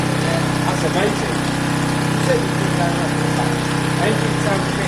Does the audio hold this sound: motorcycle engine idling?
yes